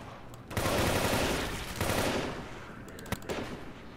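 Rapid automatic gunfire in Left 4 Dead 2, two loud sustained bursts with a short gap between them, followed by a few sharp single shots.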